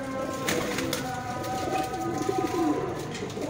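A golden finger pigeon, a breeder bird in a Lahore loft, gives soft low cooing calls close by over faint background noise.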